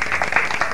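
Children applaud in a brief, dense burst of clapping that lasts under a second at moderate loudness.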